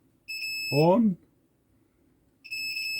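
A multimeter gives a steady high continuity beep while switches on an XTIDE CF Lite 4.1 board are tested, sounding twice with a silent gap between; someone speaks briefly between the tones.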